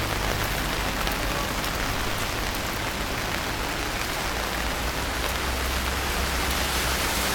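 Steady heavy rain falling in Rome, a dense continuous hiss of drops on surfaces that stays loud and unbroken throughout, with no voices over it.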